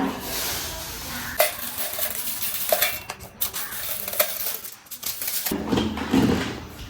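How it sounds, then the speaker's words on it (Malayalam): Dry roasted curry leaves rattle and clatter into a mixer jar in a few short bursts, with scraping and knocks between them and no talking. "ഇത് മിക്സി ജാറിലേക്ക് ഇടാം."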